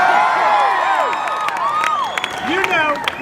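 A large crowd at a town hall in an auditorium cheers loudly and continuously, with whoops, shouts and high whistles rising over a dense wash of applause.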